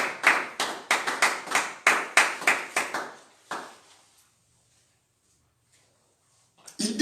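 A church congregation claps in acclamation of Jesus, a run of loud, close rhythmic handclaps that fade out after about four seconds into near silence, followed by a brief noise at the end.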